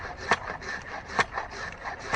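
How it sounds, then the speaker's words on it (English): Rhythmic rasping strokes of a hand saw cutting wood, three sharper pushes standing out over a continuous scratchy rub, fairly quiet and close. "This is similar to what I'm doing with the saw."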